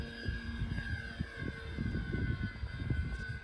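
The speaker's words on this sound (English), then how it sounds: "An electric engined plane" An electric model airplane made of polystyrene flies with a steady whining motor tone over constant wind noise, its pitch shifting slightly as it passes at moderate distance.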